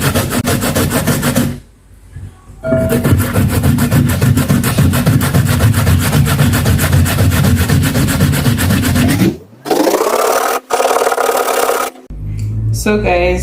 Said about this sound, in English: So I'm using this side of the grater and